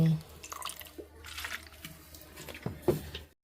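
A small splash of fish sauce trickles into a pot of bamboo-shoot curry, heard as faint, scattered drips and light liquid patters with quiet background murmurs.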